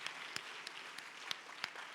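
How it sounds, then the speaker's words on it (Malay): Faint, steady applause fills a hall at a Malaysian Education Ministry anti-smoking and vape campaign launch, honouring participating schools, with a few sharper, louder claps standing out at regular intervals. "Kita bagi tepukan kepada semua atas komitmen yang hebat ini."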